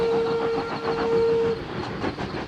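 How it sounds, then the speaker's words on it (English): Steam locomotives arriving at the Thirlmere rail museum in New South Wales give a clear, steady whistle for about a second and a half over rumbling train noise, followed by chuffing and clanking. "The 3 locos we saw setting out from Sydney were all headed here. Now they're about to arrive."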